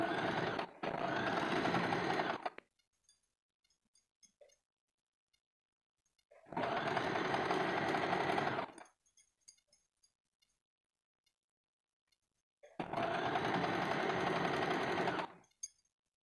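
Sewing machine stitching a Katori blouse, three separate bursts of fast, loud, close stitching, each about two seconds long, separated by near-silent pauses with faint handling clicks.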